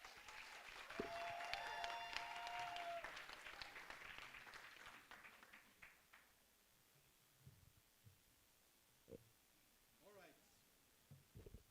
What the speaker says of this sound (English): another round of applause from the representative of MUBS